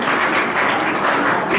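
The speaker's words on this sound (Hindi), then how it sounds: "एक ताली के साथ स्वागत करना चाहिए डॉक्टर साहब का" An audience in Nagda, at a gathering on Hindi, claps to welcome a doctor, a dense, loud burst of many hands heard briefly and close with no voices over it.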